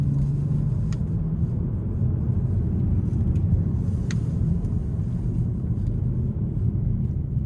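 A 2026 Hyundai Sonata SEL Sport pulls hard onto the interstate, its engine and road noise forming a steady, loud cabin rumble with no talking over it.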